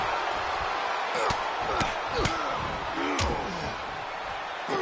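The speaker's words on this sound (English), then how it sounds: "And a stomp to the gut, too." Impact thuds from wrestlers hitting the mat in WWE 2K24, including a stomp to the gut: several sharp slams over an arena crowd roar, with commentary voices talking throughout.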